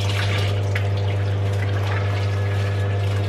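Hot water running from a tap to soak a used wax pot for cleaning, a steady continuous splashing stream alone with a strong low electrical hum beneath it.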